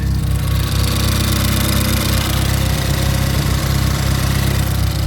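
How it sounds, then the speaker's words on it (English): A track-prepared car engine idles after a cold start, a loud, steady, close-up rumble with an even low throb and no voices. "Nice cold start for you."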